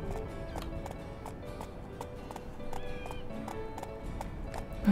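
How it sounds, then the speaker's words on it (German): Horse hooves in the video game Horse Life: steady, evenly spaced clip-clop of a ridden horse over a constant ambient game background, with no talking. "Wir reiten mal lieber weiter."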